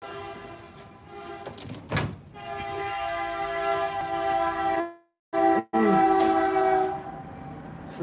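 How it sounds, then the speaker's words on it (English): A passing train sounds its horn in long sustained blasts close by, the chord swelling loud and cutting off briefly before returning, over a low rumble of the rolling cars. "Freaking train come by about every 20 minutes."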